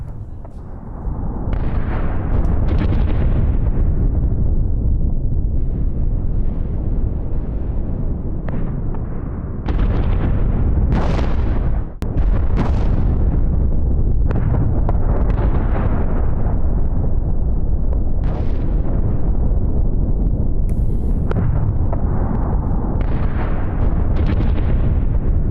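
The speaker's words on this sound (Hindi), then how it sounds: "मैक्सिको में ज्वालामुखी विस्फोट, उठा धुएं का गुबार" Continuous heavy roaring blasts and deep booms from a volcanic eruption in Mexico, loud and sustained with repeated bursts, no voices.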